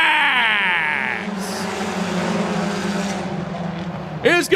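A field of sport compact stock cars at Crawford County Speedway accelerates off the green flag, engines revving up through rising tones in a loud, blended roar, with an announcer calling the race over it.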